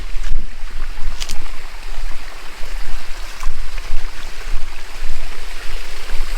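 Steady broadband rush of a waterfall in the hill village of Lungsel near Siliguri, running low on water, heard close and continuous with no voices.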